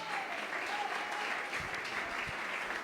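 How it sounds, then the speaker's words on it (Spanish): Church congregation applauding God during a sermon, a steady, dense wash of clapping from many hands that stays even throughout, fairly distant, with no voices over it. "Yo pensé que usted le iba a dar un aplauso más fuerte a Dios"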